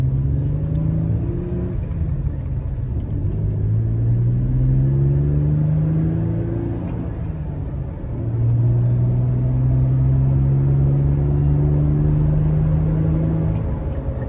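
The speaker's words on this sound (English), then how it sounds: "It's almost reminiscent of a turbo whir." A Toyota Tacoma pickup with a TRD cold air intake and exhaust rumbles from inside the cabin, rising and falling in pitch as it accelerates, with a faint turbo-like intake whir above the drone.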